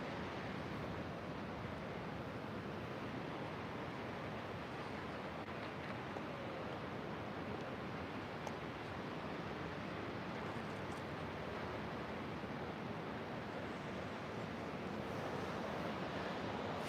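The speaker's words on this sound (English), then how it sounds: "The sound of the ocean just washing over you." Ocean waves washing onto an oceanfront shore make a steady, unbroken hiss of surf mixed with breeze, constant and fairly soft throughout.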